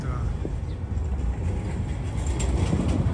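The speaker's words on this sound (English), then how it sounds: "The tram going" A tram rolls past on a city street in Istanbul near the Hippodrome, a continuous mid-distance rumble and rattle of wheels with faint squeals, over general outdoor city ambience.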